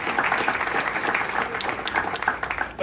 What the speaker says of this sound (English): So a huge round of applause for Jinx